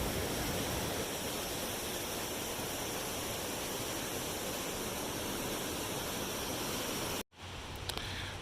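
Beas River in Manali, India, flowing below the valley: a steady, dense broadband rush of water that holds constant, broken by a brief cut near the end before the flow resumes.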